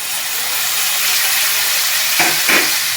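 Tomatoes sizzle steadily in hot oil for tomato rice, a broad, even frying hiss held close throughout, with two brief stirring scrapes near the end.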